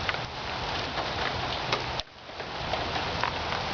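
Steady rain falls outdoors around a small dead branch, a continuous soft hiss with scattered tiny drop ticks, even and moderately loud throughout with one brief dip partway.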